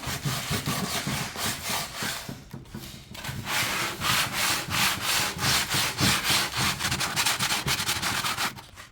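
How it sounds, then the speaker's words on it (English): Sandpaper rubs across a wooden kitchen cabinet surface in quick, rhythmic back-and-forth strokes, a close, continuous scratchy hiss with no voices. "So we want to sand it down to scuff the surface"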